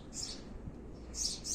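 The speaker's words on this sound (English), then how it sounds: "I'm just outside enjoying the bird song." Early-morning birdsong outdoors: a few high, bright chirps at the start and again near the end, distant and light over a soft background hum, with no speech.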